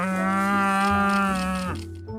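A cow gives one long, close, loud moo that holds a steady tone and then drops off sharply at the end, with no other sound around it.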